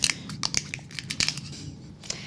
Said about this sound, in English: now we're just going to take our scissors and cut right along the slits there